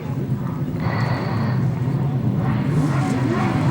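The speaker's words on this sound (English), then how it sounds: "So the revs start to go up, the tapes go up." Grasstrack racing motorcycles at the 1999 British Masters rev together at the start line, a steady, loud, dense engine roar that builds slightly as the tapes go up, with faint crowd or commentary under it.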